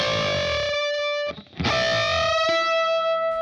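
A distorted electric guitar plays the first half of a solo, with long sustained bending notes, a brief dip into near silence, then more ringing held bends, no voices.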